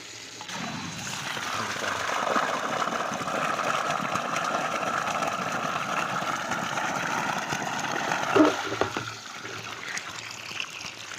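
Water pumped hard by an electric farm motor running on a DP supply, gushing steadily into a barrel by a filter, a continuous loud rush with brief voices over it.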